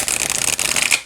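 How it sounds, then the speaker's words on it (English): A small tarot deck is shuffled in a quick, close burst of crisp riffling card flutter, lasting about a second. "let's see how it shuffles"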